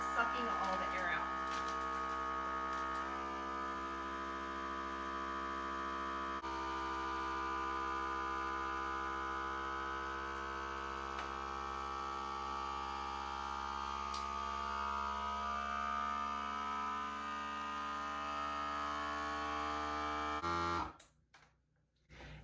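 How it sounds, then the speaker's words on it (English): A FoodSaver vacuum sealer pumps air out of a bag of flour in a glass jar, giving a steady loud motorized hum with a tonal whine. It runs for about twenty seconds and then cuts off abruptly. "It sucks until it can't suck any more air out, and then it goes directly into the seal setting."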